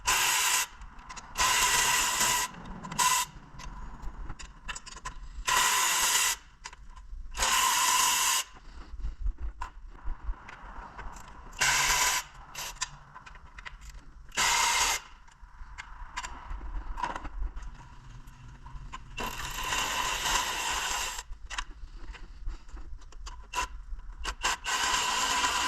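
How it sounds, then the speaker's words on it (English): A ratchet backs out the four corner bolts holding the AC condenser on a BMW F30, in bursts of clicking and scraping metal work separated by short pauses, with no talking. "Unscrew these 4 on the corners."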